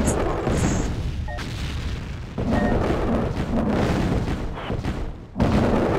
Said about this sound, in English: Oh yeah, he's bombing.